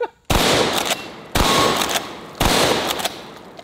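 A 12 gauge shotgun fired at clay targets outdoors: three loud, close booming blasts about a second apart, each followed by a ringing decay.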